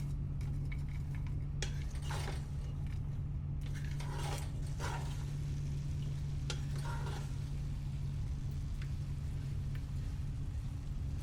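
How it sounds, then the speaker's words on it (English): Salted onions stirred in a pot, soft scraping strokes over a steady low hum and faint sizzle, close and quiet, no talk. "Stir things up to get everything incorporated, and we're going to go low and slow on these."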